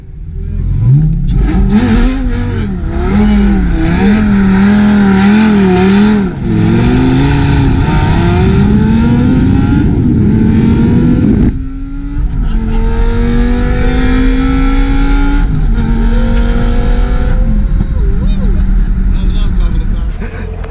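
A brand new Lamborghini drives close by, its engine revving loudly and accelerating with a steadily climbing pitch, then easing off and building again.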